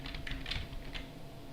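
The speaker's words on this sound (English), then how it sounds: "So if I start typing," Keystrokes on a computer keyboard during software setup on Fedora Linux: a few quick, scattered taps, quiet and close, with no voices.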